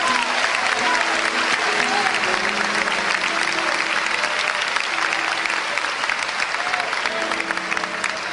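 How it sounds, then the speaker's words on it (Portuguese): A church congregation applauds steadily and loudly, dense continuous clapping filling the room with voices mixed faintly underneath. "Vamos aplaudir a Deus pela vida dele."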